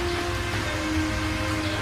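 Steady rain falls throughout a cold night, a dense continuous hiss of drops at an even level with no voices.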